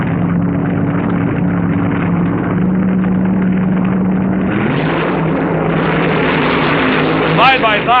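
Top Fuel dragsters race side by side at the 1978 NHRA Summernationals, their engines a harsh sustained roar that swells and shifts in pitch, heard through old broadcast audio with an announcer talking over it.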